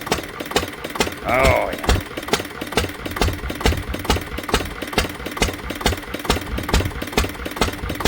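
An old Ruston Hornsby diesel engine runs slow and steady after a cold start, its exhaust beating in a regular low thump throughout, with someone briefly speaking over it.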